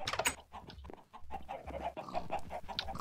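Chickens in Minecraft cluck in a short burst of clipped, overlapping squawks inside an egg-laying holding tower, close and fairly loud with a few brief pauses.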